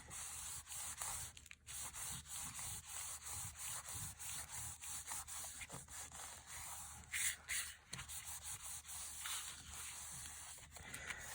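Paper is rubbed down firmly by hand while assembling a Christmas folio craft journal, giving quiet, close, repeated scraping strokes in a steady rhythm.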